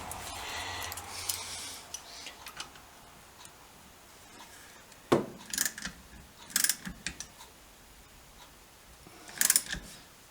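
A socket wrench ratchets on a BSA 350 motorcycle engine, soft clicking early on, then scattered louder ratchet bursts and metallic knocks spaced several seconds apart in a quiet workshop.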